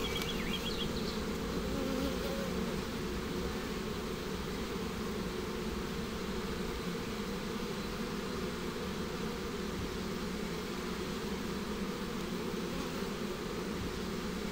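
Honeybees swarm over beehive frames of natural wax foundation, a dense, continuous buzzing hum close by with no other sounds.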